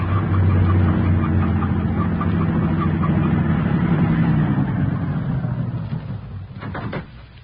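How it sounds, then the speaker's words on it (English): A truck with its headlights off rumbles past at night in a classic radio drama, a loud low engine drone that holds steady and then fades away, ending with a couple of faint knocks. "The truck has no headlights on, but it's going to pass right by us."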